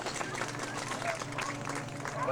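Audience applause for an aging lead sled dog that won three consecutive Iditarods, steady dense clapping mixed with crowd noise, close and continuous, with speech over it.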